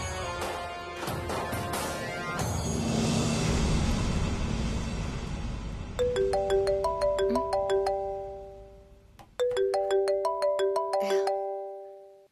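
A melodic phone ringtone plays for an outgoing call, its bright chiming notes repeating in two clear bursts over a blurred music bed, with no talk.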